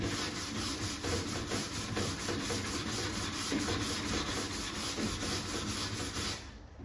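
Rhythmic, continuous scraping of a sanding block across Bondo body filler on the door of a 1949 Ford pickup truck, fast strokes repeating evenly and fairly close, fading slightly at the end.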